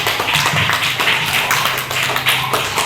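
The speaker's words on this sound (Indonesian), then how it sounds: "tepuk tangan ke kelompok 4" A class claps for a group that has just presented, a close, dense and loud patter of many hands that holds steady throughout with no talking.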